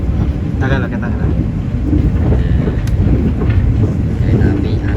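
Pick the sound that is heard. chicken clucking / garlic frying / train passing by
train passing by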